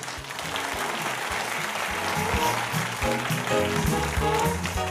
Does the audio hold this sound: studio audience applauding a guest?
yes